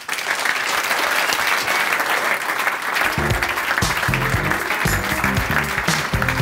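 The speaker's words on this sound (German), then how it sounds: "Bitte begrüßen Sie mit einem stürmischen Stuttgarter Applaus." A studio audience at a talk show in Stuttgart bursts into loud, sustained applause. Halfway through, a bright musical fanfare with punchy beats comes in under the clapping.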